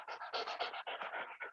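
A very hot dog pants steadily and close by, a quick run of rapid, breathy huffs with no talking over it.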